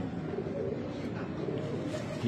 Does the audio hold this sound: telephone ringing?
no